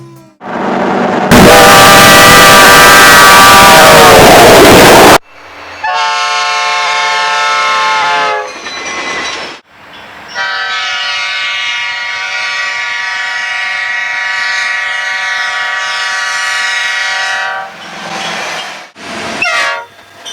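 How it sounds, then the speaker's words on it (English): Air horn on an Amtrak F40PH diesel locomotive, a Nathan P5 or K5LA: a loud, harsh first blast followed by several sustained chord-like horn soundings, one very long, separated by brief gaps. "The F40PHs typically came equipped with a Nathan P5 or K5LA air horn."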